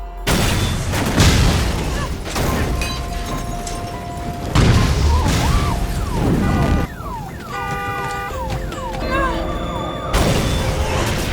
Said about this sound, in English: his female assistant was killed by an explosion in her car